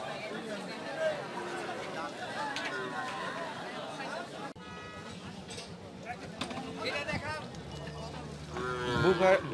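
Cattle at a large cattle market in Rajshahi low and moo amid a busy crowd, the calls rising over constant chatter and babble of buyers and sellers nearby.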